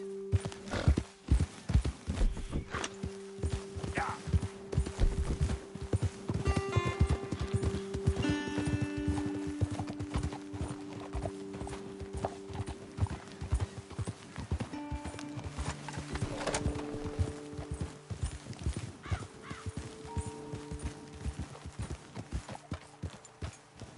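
Horses' hooves clip-clop steadily on the ground in Red Dead Redemption 2, a continuous close rhythm of many hoofbeats lasting throughout, with a brief whinny and soft background game music.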